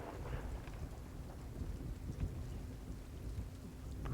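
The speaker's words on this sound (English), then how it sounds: "So storm being so close is actually quite nice." A thunderstorm with steady heavy rain in the video game Sea of Thieves, a dense continuous hiss of falling rain with low rolling thunder rumbling beneath, no voices.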